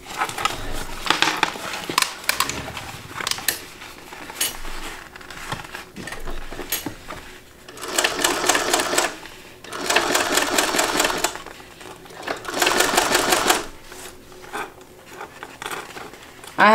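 A sewing machine with a cylinder arm stitches fabric in several rapid whirring bursts, separated by pauses with soft handling and faint talk.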